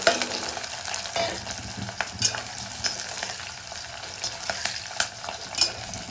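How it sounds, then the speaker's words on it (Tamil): Onions, green chillies, mustard seeds, fennel and urad dal sauté in hot oil for a steady close sizzle, with scattered stirring scrapes and small crackles throughout and no voices. "இந்த எண்ணெய் சூட்டில் இன்னும் கொஞ்சம் வதங்கணும்"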